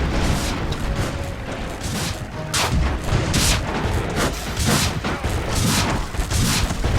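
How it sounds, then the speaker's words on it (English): Continuous barrage of explosions and cannon blasts from the 2D steampunk airship battle game Airships: Conquer the Skies, dense overlapping booms and crackling bursts filling the whole stretch with no pause. "What is the infinite explosions?"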